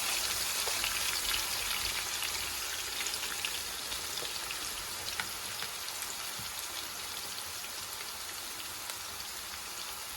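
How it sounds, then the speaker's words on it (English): Beef sears in a pan for Panamanian ropa vieja, giving a dense, steady hiss of sizzling with fine crackling pops that holds at an even level throughout and is heard close, with no one speaking. "Let's sear it just a little bit more."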